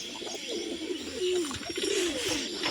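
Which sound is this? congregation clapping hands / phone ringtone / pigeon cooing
pigeon cooing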